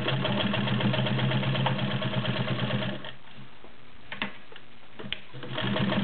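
A Janome New Home model 671 sewing machine stitches through three layers of garment leather with a rapid, steady mechanical chatter, then slows to faint intermittent clicks before picking up speed again.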